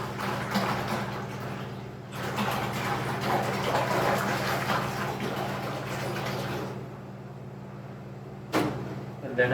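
A gallon of water pours into a container to start a ham brine, a steady rushing stream lasting several seconds before stopping, followed by a brief knock.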